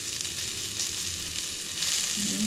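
Noodle salad with black pepper stir-fried in a pan, giving a steady, close sizzle with soft scraping, no voices.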